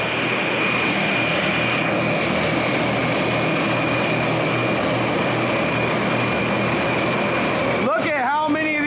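Rows of Antminer S4 bitcoin mining machines running in a room, a loud, dense, constant fan roar with a steady whine throughout, and brief voices near the end.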